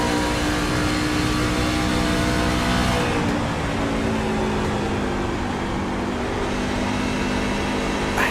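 Race truck engine in a sim racing game at Homestead-Miami Speedway, a loud sustained drone with gliding pitch changes as the truck works through a corner, steady throughout with no talk.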